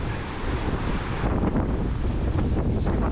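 Waves rolling in on a windy, wet shore near Bamburgh Castle, a steady broadband wash of surf mixed with heavy wind buffeting the microphone, loud and continuous throughout with no talk.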